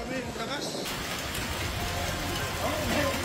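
A hailstorm during a thunderstorm in Quezon City, with small ice pellets and rain making a dense, steady hiss and patter throughout, fairly loud and unbroken.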